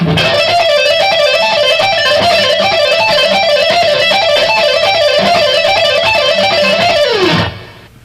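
A fast electric guitar pull-off riff repeats a rapid rolling pattern of notes at a steady tempo, loud and bright, then stops abruptly.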